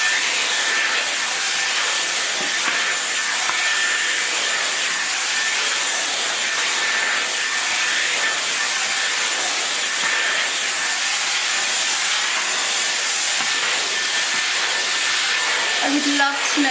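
Dyson Airwrap hair styler blowing air, a steady, loud, broadband hiss that runs unbroken from start to finish with no pauses.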